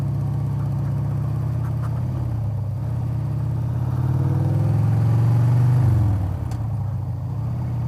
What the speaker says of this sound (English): I didn't want to go buzz their little campsite with my motorcycle on the beach.